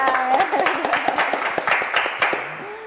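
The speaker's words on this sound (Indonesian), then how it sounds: "Tepuk tangan" A graduation audience for new master's degree holders claps close by in a short, uneven burst. Voices and a few tonal sounds mix in, and the clapping tapers off at the end.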